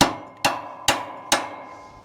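Four sharp metallic hammer blows on a pivot irrigation jack on a ranch, evenly spaced about half a second apart, each ringing and decaying, close and loud.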